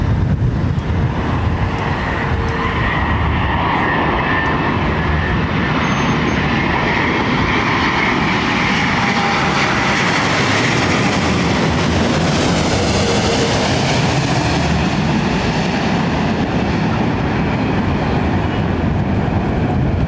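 An airliner landing at London Heathrow roars loudly and steadily as its thrust reversers deploy, a broad continuous rumble that swells toward the middle and holds close and dominant throughout.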